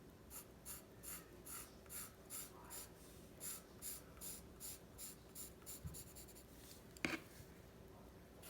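A pen draws stripes on paper for a pysanky egg design, making a rhythmic run of short scratchy strokes at about two per second. The strokes are close and faint, and a sharper tap comes near the end.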